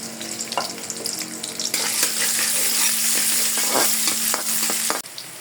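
Chopped onion hits hot oil in a heated wok for a Bengali radish and river tengra fish curry. After a quieter first second, a loud, steady sizzle fills the clip, with occasional clinks from stirring and no talking.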